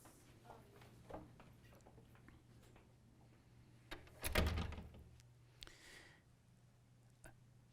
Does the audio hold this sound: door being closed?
yes